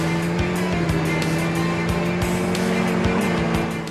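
Motorcycles race in the Dreamcast game Suzuki Alstare Extreme Racing, with a steady engine drone and repeated sharp clicks or skids over a continuous backdrop, moderately loud throughout.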